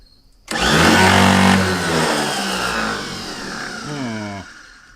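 The starter motor on a barn-find Continental, unrun for 35 years, whirs at high speed with the Bendix drive failing to engage. It is a loud, close spinning whine lasting about four seconds that winds down abruptly without turning the engine over.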